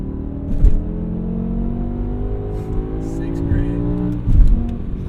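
A 2008 BMW E60 M5 engine revving hard under acceleration, its strong harmonic tone climbing steadily in pitch inside the car, with a couple of low thumps and faint voice fragments over it.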